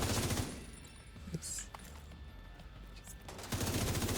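Repeated heavy firing of a main gun in a video game, booming volleys at the start and again near the end with a quieter stretch between, fairly loud and close.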